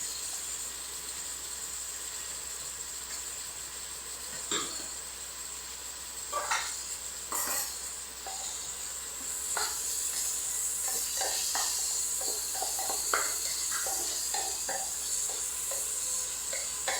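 Potatoes sizzle with onion in a pan, a steady soft frying hiss broken by scraping stir strokes and clinks of a spatula, close and fairly quiet with no talking.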